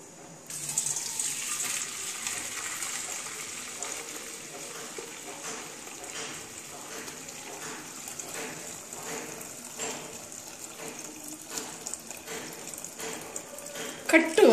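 Water runs and pours steadily into a cooking pot in a home kitchen while dal is being prepared, a continuous splashing gush with a voice talking faintly over it.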